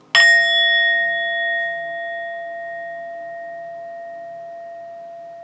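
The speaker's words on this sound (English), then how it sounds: "I hear a doorbell ringing." A single bright chime struck once, then a long, clear ringing tone that slowly fades away on its own.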